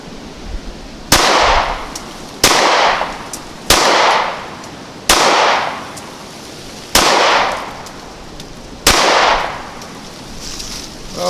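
Six loud, sharp pistol shots from a Ruger Security 9 firing Remington 115-grain ammunition at an outdoor range, spaced one to two seconds apart with short echoing tails, and no talking.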